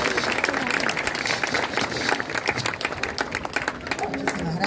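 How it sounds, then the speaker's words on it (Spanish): An audience at a school event applauds the school director, with a steady wash of clapping over crowd murmur and a speaking voice. "Nuestra directora Isabel Cabrera Donato, fuertes aplausos para ella."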